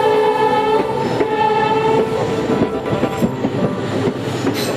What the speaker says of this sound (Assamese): ট্ৰেইন যিহেতু চলি আছে